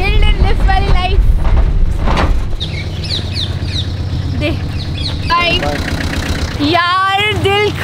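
A vehicle engine idles with a low steady rumble during a roadside lift ride near Auroville village, Pondicherry, under loud chirping, squeaky sounds and people talking.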